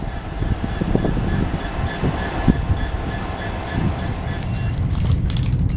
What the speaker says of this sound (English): And there's the train there going to Lincoln.